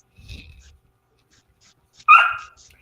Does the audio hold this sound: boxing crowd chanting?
no